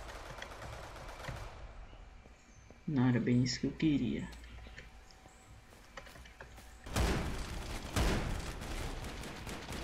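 Bursts of automatic gunfire in the dinosaur shooter Primal Carnage: Extinction, one rapid volley in the middle and another loud spray near the end, with someone talking in between.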